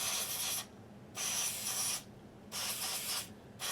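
DeoxIT contact cleaner sprays in three bursts into the headphone and earphone sockets of a TEAC A-170S cassette deck, each a close, loud hiss of about a second separated by short pauses.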